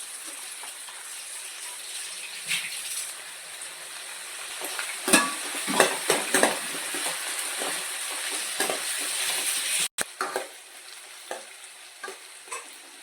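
Onions fry with a pinch of salt in a pan for mutton curry, a steady close sizzle broken by a run of scraping stirs and clinks in the middle, then settling back to an even fry.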